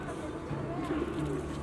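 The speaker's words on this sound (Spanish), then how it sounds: "la Plaza Murillo está lleno de palomas que no vuelan." Pigeons in Plaza Murillo, La Paz, coo softly in the open square beneath steady crowd noise and talk.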